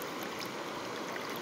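Water gushes steadily from the outlet of a homemade ram pump, a continuous loud, hissing flow with no pauses or talk.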